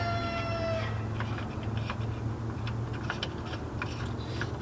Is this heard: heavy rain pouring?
no